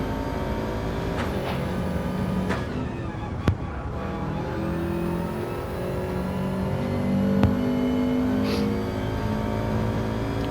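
A race car engine in Gran Turismo 7 during a DTM final-round race drones steadily throughout with sustained high revs and brief gear-change dips, loud and continuous with no talk.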